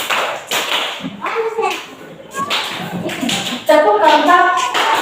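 A group, likely children in a classroom counseling session, clapping in short patterned bursts of sharp claps mixed with voices and chatter, the claps close and fairly loud.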